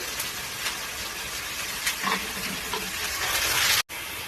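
Ginger garlic paste and tomato juice frying in oil, giving a steady, close hiss of sizzling with small bubbling pops, ending in a brief cut.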